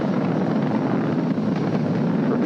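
A SpaceX Falcon 9 rocket climbs during launch, its engines a steady, dense, broadband roar with a throbbing, crackling texture, heard continuously from a distance and free of speech.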